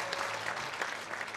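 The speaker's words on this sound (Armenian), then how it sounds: "ծափեր" At a 50th-anniversary celebration for an actor, an audience breaks into quiet, steady applause, a short dense patter of many hands with a few sharper claps standing out.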